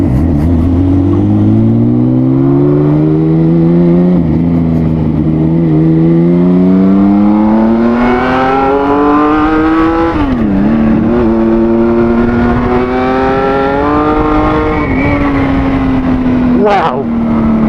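A Kawasaki Z1300 motorcycle engine revs continuously and loudly up close, its deep multi-cylinder drone rising and falling in pitch with repeated throttle blips and a brief dip mid-way.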